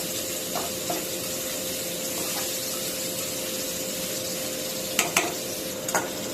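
Bitter gourd fry with plenty of garlic is turned in a pan under a steady close sizzle, with a few soft scrapes and two or three sharper clinks of the spatula near the end.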